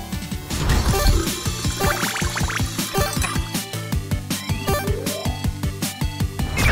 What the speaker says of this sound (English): Open the faucet.